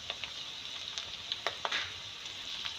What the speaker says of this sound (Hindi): तो अब इसी में मैं ये लहसुन के जगह भी डालूँगी ताकि ये भी फ्राई हो जाए।